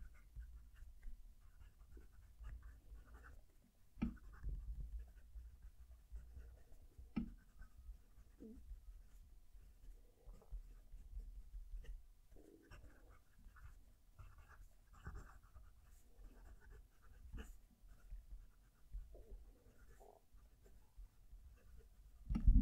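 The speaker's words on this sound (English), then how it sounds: "I'm going to move the microphone down to the mat so you can hear the pen write." A Leonardo Magico or Moonman M800 fountain pen writes on paper resting on a mat, picked up close. Faint scratchy strokes come in small irregular bursts over a soft background hiss, with no one speaking.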